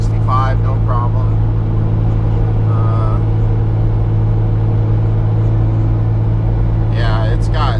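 Steady, loud diesel drone and low rumble from a 12-valve Cummins truck engine held under throttle at highway speed, continuous throughout with road noise; someone talks briefly over it.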